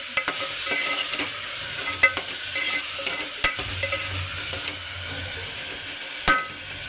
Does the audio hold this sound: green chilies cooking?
yes